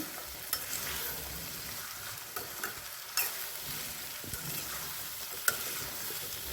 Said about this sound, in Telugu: సాల్ట్ తగినంత వేసుకొని మొత్తం అన్నీ కలుపుదాం.